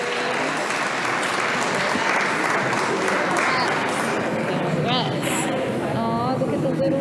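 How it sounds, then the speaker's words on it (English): An audience at a school board meeting gives a sustained round of applause as volunteers come up onto the stage, with crowd chatter and a few voices mixed into the continuous clapping. "Let's give them all a big round of applause as they join us up on this stage."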